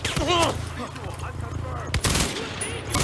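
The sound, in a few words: machine gun firing in the video game Far Cry 4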